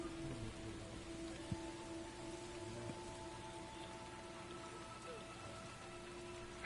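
Steady rain falls in The First Descendant, a constant hiss of drops with a faint low hum underneath and no voices.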